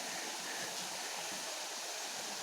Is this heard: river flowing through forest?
yes